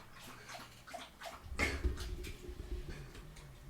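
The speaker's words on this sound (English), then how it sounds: "It's just loud laps of water." A pet dog loudly laps water from a bowl after dinner, a close, quick series of wet splashing laps with slurping, repeating irregularly over a few seconds.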